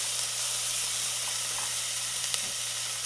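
Onions sautéing gently in a pan for cazuela de chorizo, a steady soft sizzle and frying hiss continuing evenly with occasional faint pops, close and alone without talk.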